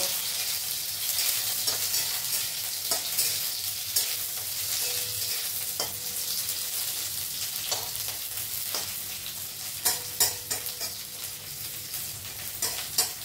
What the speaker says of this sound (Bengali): এরপরে করলাগুলো আমি দিয়ে নিচ্ছি।